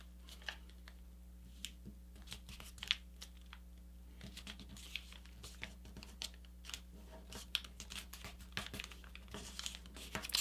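Sheets of paper being folded into a paper airplane give off crisp crinkles and sharp creasing taps that come in irregular bursts, close and fairly quiet, with no talking.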